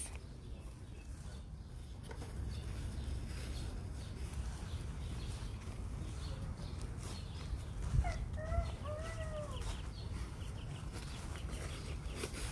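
A few short bird calls ring out over steady outdoor rumble, brief chirps clustered together near the middle, moderately close, from a live bird in the back of a kill truck.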